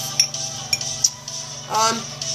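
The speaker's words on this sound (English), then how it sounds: "I'm just mixing my blonde flax and my psyllium husk together" Blonde flax and psyllium husk stirred together in a bowl: light clinks of a utensil against the bowl, a few sharp taps, then a soft scraping swirl over a faint background hum.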